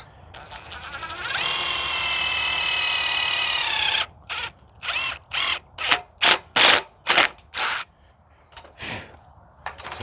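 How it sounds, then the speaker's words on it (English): A power drill drills out rivets on an RV awning: a steady high-pitched whine for a few seconds, then about eight short, loud, close bursts of drilling in a stop-start rhythm. "So then once you get those drilled out, you can just pull that out."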